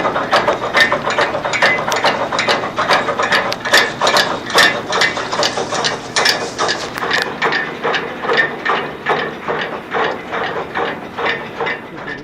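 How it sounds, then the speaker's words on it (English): A large hauling chain drags a ferry across the water in Cornwall, producing loud, close, rhythmic metallic clanks and ratcheting at roughly regular intervals over a steady mechanical grind. "This ferry makes its way across by means of a large hauling chain"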